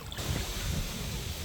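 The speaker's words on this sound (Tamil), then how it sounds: "லைட்டாக மழை தூருது. நான் காற்றும் கொஞ்சம் அடிக்குதான்." Wind blows across a flooded area around the Suthumalai Amman temple in Manipay during light rain, a steady, dense roar buffeting the microphone with no pauses.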